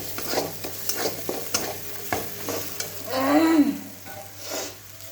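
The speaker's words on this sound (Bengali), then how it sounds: "মশলাটা ভালো করে এভাবে ভেজে নিতে হবে যতক্ষণ পর্যন্ত গন্ধটা না চলে যায় কাঁচা রসুন পেঁয়াজ।" Spice masala with raw garlic and onion fries in a pan for an egg curry, a sizzle under repeated spatula scrapes and knocks against the pan, with a brief louder hissing surge and no talking.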